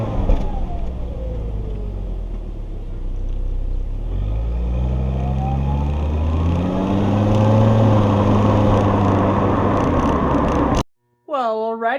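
A Volvo XC70 drives along with a steady engine rumble and road noise, its tone rising as it accelerates through the gears, heard close from inside the car before cutting off abruptly near the end.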